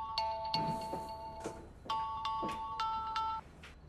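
A phone ringtone plays a bright melodic chime in short repeated phrases, fairly quiet and alone, ringing before a call is answered.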